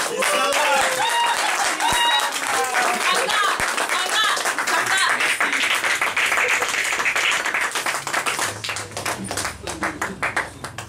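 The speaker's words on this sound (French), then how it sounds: "Vos acclamations s'il vous plaît." Audience at a live stage show premiere in Geneva applauding and cheering loudly and continuously, with shouts and whistles mixed into dense clapping that thins slightly toward the end.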